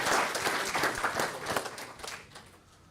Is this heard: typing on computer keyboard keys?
no